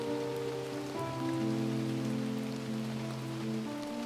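Steady rain falls at a campsite in Canada on a smoky wildfire day: a continuous soft hiss of drops spread evenly throughout, with a low steady tonal hum running underneath.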